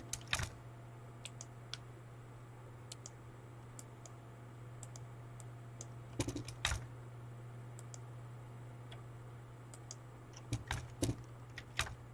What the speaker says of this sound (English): Let me type the other one.